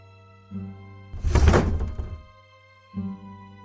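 A door swings open as a staged sound effect: a low thunk, a louder broad creaking sweep in the middle, then another soft thud, heard alone over a steady tonal drone.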